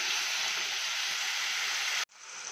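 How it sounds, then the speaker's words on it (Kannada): Four small cut tomatoes fry in a pan, giving a steady, even sizzle that stops abruptly and then creeps back in more softly. "ನಾಲ್ಕು ಕಟ್ ಮಾಡ್ಕೊಂಡಿದ್ದೀನಿ ಇದೆಲ್ಲ ಸ್ವಲ್ಪ ಫ್ರೈ ಆಗಲಿ"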